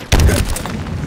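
Gunfire in Halo Infinite, a single loud booming blast with a thudding low rumble that decays quickly, close and dominant.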